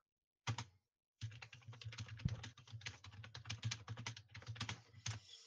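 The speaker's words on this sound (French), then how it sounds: "on entend ton clavier comme jamais" Rapid, dense computer keyboard typing during a FIFA esports gaming session, close and loud, with clattering keystrokes running steadily after a brief burst and short pause.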